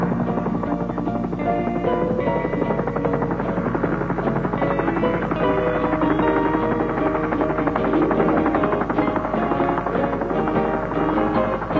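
A helicopter over jungle roars steadily and close, its thudding rotor chop and turbine whine filling the whole stretch without a break and with no voices.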